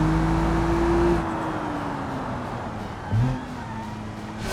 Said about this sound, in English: You hear that turbocharger a little bit here in the cockpit view